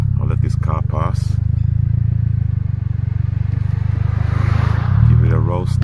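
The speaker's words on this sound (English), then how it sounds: "I'll let this car pass." A car passes on the road beside a stopped Audi S3 8L, its broadband whoosh swelling toward the end over the steady low idle hum of the Audi's engine, with someone speaking briefly at the start and end.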